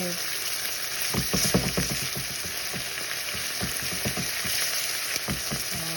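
Onions frying in a pan with oil, a dense continuous sizzle broken by scraping stir strokes, close and fairly loud with no talking.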